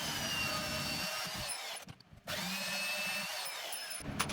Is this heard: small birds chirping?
no